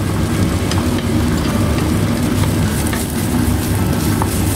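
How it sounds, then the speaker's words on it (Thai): Garlic and shallots stir-frying in hot oil, a loud, dense, steady sizzle with faint crackles throughout and no talk. "ใส่น้ำมันลงไปเปิดไฟแล้วก็ใส่น้ำมันเน าะใส่หอมกระเทียมลงไปผัดเลยเนาะ"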